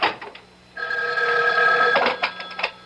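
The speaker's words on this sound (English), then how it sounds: "that's my phone" An old telephone bell rings with a sustained metallic trill lasting over a second, close and loud, bracketed by short clattery rattles as if the handset is being handled.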